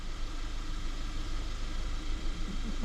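A 2012-2019 Kia Soul engine idles steadily after a spark plug and coil pack change, a low continuous hum with mild vibration running alone for a few seconds.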